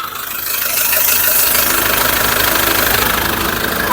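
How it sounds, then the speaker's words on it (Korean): A SsangYong Rexton Sports pickup engine, about 50,000 km, idles steadily with the hood open, a smooth, even mechanical hum and faint rattling, heard up close with no talking. "마지막으로 중요한 엔진 사운드 체크하도록 하겠습니다"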